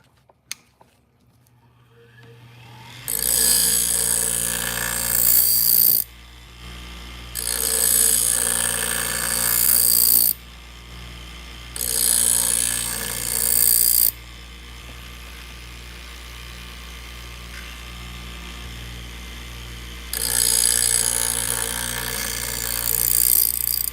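Scissors are sharpened on a Twice as Sharp powered sharpener: a motor hum runs throughout while four bursts of harsh grinding, each a few seconds long, start and stop as the blade passes.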